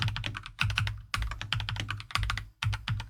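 Rapid typing on a computer keyboard during an Excel shortcut challenge, close and crisp, with bursts of quick key clicks separated by brief pauses and no talking.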